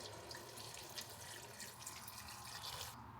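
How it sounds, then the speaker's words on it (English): Four cups of water poured into a cooking pot while making dinner, a steady close splashing stream that keeps going without a break until it stops abruptly at the end. "Now I'm going to add 4 cups of water."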